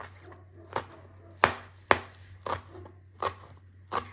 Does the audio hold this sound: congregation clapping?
no